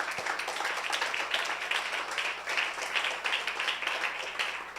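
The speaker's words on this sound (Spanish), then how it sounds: "Un fuerte aplauso a una joven más" A church congregation gives steady, even applause throughout, a dense wash of clapping with a faint low hum beneath and little speech.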